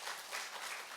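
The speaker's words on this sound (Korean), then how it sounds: "네, 우리 박수로 환영하겠습니다." Church congregation applauding to welcome a returning young member at a Sunday service, a dense steady patter of many hands filling the hall without pause.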